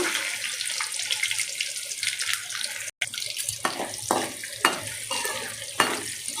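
Finely chopped onions and mustard seeds sizzle in a hot pan with oil for a raw banana curry, a steady hiss broken by several sharp scraping stirs of a spoon against the pan.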